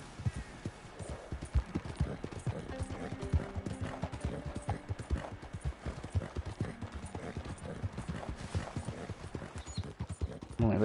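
A horse's hooves clip-clop steadily as it labours uphill over mountain ground in Red Dead Redemption 2, a dense continuous patter of close hoofbeats with no talking over it.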